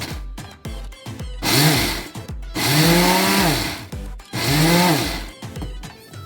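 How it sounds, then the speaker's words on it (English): A countertop blender grinds oats into coarse flour, revving loudly in three short pulses with a rising then falling whine, separated by brief quieter knocks and handling sounds. "So I'll just be blending in briefly."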